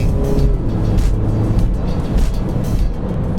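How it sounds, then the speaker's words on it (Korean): Engine and muffler of a 2016 Mini Cooper S with a 190-horsepower engine, heard from inside while driving: a loud, continuous low drone that holds steady throughout, with no talk. "엔진 사운드와, 물론 뭐 머플러가 또 주는 이 사운드가 또 한 번 있어요."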